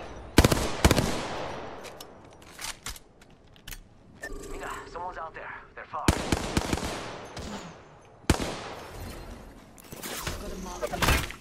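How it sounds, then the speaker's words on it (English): In an Apex Legends match, enemy gunfire hits the player in loud automatic bursts: sharp, rapid volleys with short lulls between them. Mechanical clanks and game effects fill the gaps, and a voice speaks between the bursts. "Who in the hell is shooting me?"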